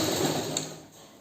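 A sewing machine stitching slowly with pearls on the fabric, a soft close mechanical whir that is steady at first and then eases off and quietens toward the end.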